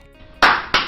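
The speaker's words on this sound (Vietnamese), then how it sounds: "Vỗ tay!" A clapping sound effect lands in two sharp, loud bursts, the second shorter and following closely after the first, over a quiet background.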